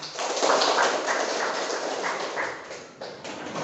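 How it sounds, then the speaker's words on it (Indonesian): A school class claps together during a group guidance lesson, a dense, broad patter of many hands ringing out steadily from up close before trailing off near the end. "Oke, tepuk tangan."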